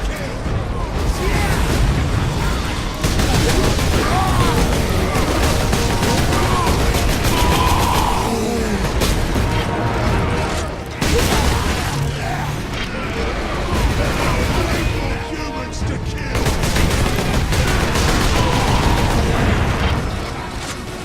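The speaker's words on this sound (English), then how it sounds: "that was solely the artillery, making that very large explosion." Artillery fire and a large explosion in the Warhammer 40,000: Space Marine video game, rendered as dense, continuous battle noise with heavy low booms and crackling blasts that hold steady and loud throughout, with brief dips.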